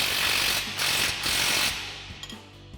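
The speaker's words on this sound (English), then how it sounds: "take a 21mm swivel socket and a 13/16 or 21mm wrench and tighten this down" A 21mm swivel socket and wrench ratchet a nut tight on a Jeep Gladiator JT suspension lift: bursts of rapid, close clicking, briefly pausing, then fading into a few isolated clicks.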